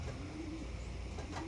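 Racing pigeons coo softly in a low, drawn-out tone, heard twice against a steady background rumble.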